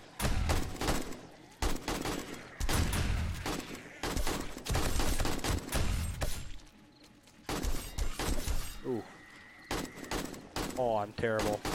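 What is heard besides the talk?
AR-15 rifle gunfire in the video game 7 Days to Die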